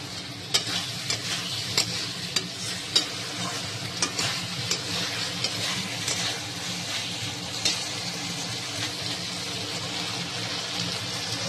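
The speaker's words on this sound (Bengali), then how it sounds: "খুব সুন্দর মশলা কষানো হয়ে গেছে" Spice masala sautéing in oil in a pan, a steady close sizzle with repeated scraping stir strokes and soft clinks throughout, no voices.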